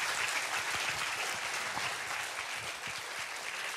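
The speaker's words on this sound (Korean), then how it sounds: "박수를 부탁드립니다" An audience applauds at a Korean traditional music concert, a broad sustained wash of many hands clapping from the hall, steady and moderately distant throughout.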